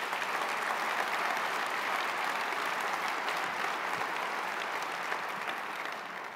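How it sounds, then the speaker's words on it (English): A large audience at a State of the City address applauds in a steady, dense roar of clapping that holds evenly throughout and tapers slightly at the end. "I think that deserves a round of applause."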